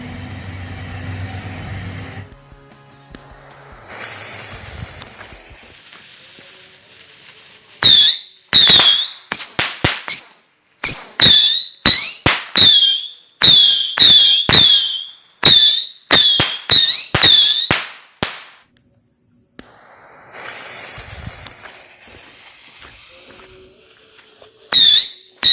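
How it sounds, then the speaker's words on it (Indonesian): A Patriot Missile firecracker set off at night during Ramadan lets out a rapid run of shrill whistling squeals, each rising sharply and close, repeated in bursts with short gaps, preceded by a low rumble and quieter crackles. "ini yang selanjutnya kita nyalakan mercon Patriot Missile"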